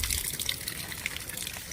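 Water overflows from a full household tank as a continuous rushing, trickling gush, steady and fairly near, with no pauses.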